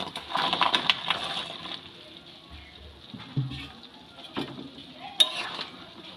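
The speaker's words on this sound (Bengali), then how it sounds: "এবার এই ফুটন্ত ঝোলের মধ্যেই এই ভেজে রাখা সোয়াবিনগুলো দিয়ে দেব" Fried soya chunks tipped into boiling curry in a pan, heard as a steady sizzle and bubbling with scattered spoon clatter and scraping knocks against the pan, moderately close, with no speech.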